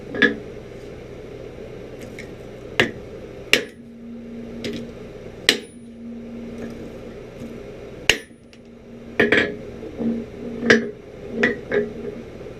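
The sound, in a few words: hammering a heated knife blade with a flatter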